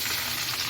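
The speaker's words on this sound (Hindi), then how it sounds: "तो अब हम इस पर जो है वो इसका तड़का लगा देते हैं" Tadka tempering for kadhi sizzling hard in hot oil, a loud, steady, dense hiss with no talk over it.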